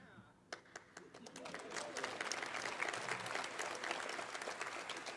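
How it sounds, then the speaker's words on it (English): Audience applause at a university women's basketball introductory press conference, starting with a few scattered claps then swelling into steady, sustained clapping from a crowd that fills the room. "I think they're going to applaud after every sentence"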